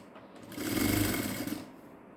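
A sewing machine stitches a blouse neckline design in a short, even mechanical whir that builds and fades over about a second, fairly quiet and close, with no voices.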